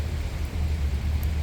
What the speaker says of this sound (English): that time there was no rain, apart from some drizzling, but now it's a lot.